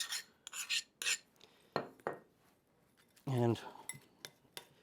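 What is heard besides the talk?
mixing softened butter and brown sugar into a paste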